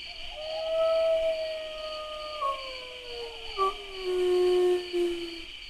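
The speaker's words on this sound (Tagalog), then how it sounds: "ay nagpakawala ito ng isang napakalakas na pag-alulong" A large, fierce dog lets out a loud, sustained howl that wavers and falls in pitch over several seconds, rising again in swells, with a steady background hum and no talking.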